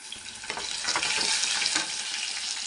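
Green chillies and curry leaves fry in hot oil for upma made with ration rice, giving a steady close sizzling hiss that fills the whole short stretch with no talking.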